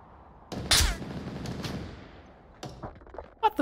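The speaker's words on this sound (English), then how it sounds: "Where was I being shot from?" Gunfire in the Onward VR multiplayer shooter: a sharp close shot followed by a rattling burst, then scattered fainter shots, with a few loud cracks near the end.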